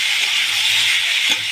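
Potatoes, carrots and peas with salt and green chillies frying in hot oil, a loud, dense, steady hiss throughout.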